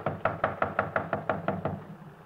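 Knocking on a door, about eleven evenly spaced firm raps in a quick steady run, fairly close and clear with no voices over it.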